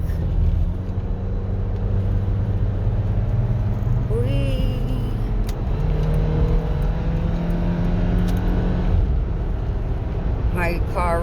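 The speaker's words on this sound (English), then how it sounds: "My car really wants to drive fast, but I will not let it." A car drives up a freeway entrance ramp with a steady, close engine drone and continuous road rumble, the pitch shifting slightly as it accelerates.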